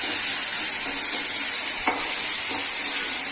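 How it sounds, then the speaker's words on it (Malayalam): Chickpeas fry in a pan with salt, giving a loud, steady sizzle and hiss throughout, broken by a couple of faint stirring scrapes. "ഒന്ന് ഫ്രൈ ചെയ്ത് വരണം"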